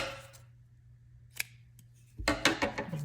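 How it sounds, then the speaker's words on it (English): Scissors snip through crochet yarn up close, with a single sharp cut followed by a cluster of quick crisp clicks. "I'm going to cut my yarn"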